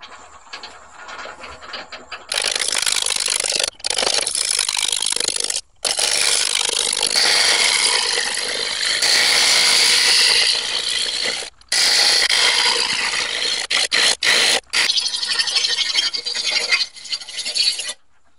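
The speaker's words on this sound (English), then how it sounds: "So I'll just get my roughing chisel." A roughing chisel cutting soft cherry wood on a lathe, producing loud steady scraping and rasping bursts with several short pauses between cuts, close and alone without talk.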